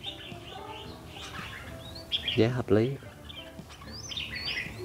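Wild-caught birds for sale in a bird keeper's home in Gia Lai give light chirps and brief tweets, with someone talking over them.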